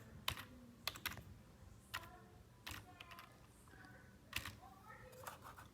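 Keys on a computer keyboard are pressed one at a time while entering a Wi-Fi password, giving sparse, faint, close clicks with pauses between them.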